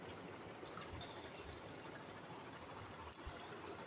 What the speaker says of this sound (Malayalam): നമുക്ക് ആവശ്യമുള്ള വെള്ളം ഒഴിച്ച് കൊടുക്കാം